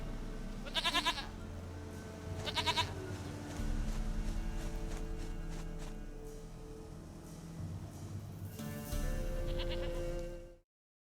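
Goats in The Witcher 3 video game bleat in several short wavering calls over a steady game ambience, with a final bleat just before the sound cuts off.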